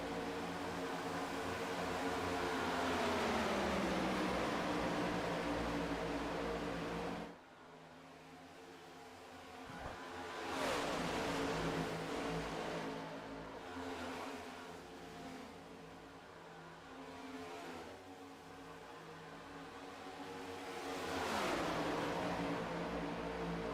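Race cars in a big pack roar past in the iRacing video game at Daytona International Speedway, engine drones rising and sweeping by in several waves, moderately faint.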